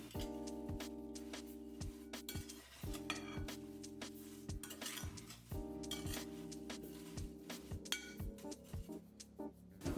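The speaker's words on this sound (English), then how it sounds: "give that a good mix until everything is well combined" Metal spoon stirring and clinking against a glass bowl of apple filling mixed with cinnamon, salt, vanilla and flour, bright repeated chinks in an irregular rhythm, close and alone.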